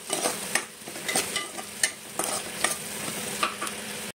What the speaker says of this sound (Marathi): आता हे मी कांदा टाकला आहे, त्याच्यामध्ये कढीपत्ता टाकला आणि एक छोटी मिरची टाकली आणि मी भाजून घेते